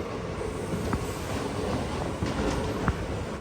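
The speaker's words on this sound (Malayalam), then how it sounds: "ചെങ്കോട്ടൈ റെയിൽവേ സ്റ്റേഷനിലേക്ക് ഇതാ നമ്മുടെ ട്രെയിൻ എത്തിക്കൊണ്ടിരിക്കുകയാണ്" The Madurai–Guruvayur Express rolls into platform 2 at Chengottai railway station with a steady, fairly loud rumble, faint wheel clacks and a few metallic knocks, and no voices.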